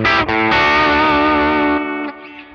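A sustained electric guitar chord with Seymour Duncan JB and 59 pickups, through a Fractal Audio FM3 Deluxe Reverb amp model, rings out loud and full, struck again and held with a warm, slightly driven tone before fading near the end.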